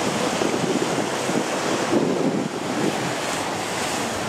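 Sea waves wash continuously onto the beach at Mellieħa, Malta, a steady loud roar of surf mixed with wind buffeting the microphone.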